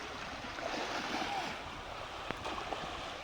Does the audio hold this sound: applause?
no